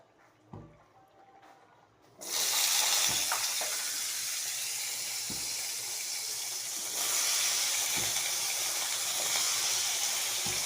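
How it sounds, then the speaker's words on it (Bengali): Sweet pumpkin pieces hit hot oil and burst into a loud, steady sizzle that holds for several seconds, then swells louder again, with a few faint knocks before it starts. "মিষ্টি কুমড়া ভেজে নিই।"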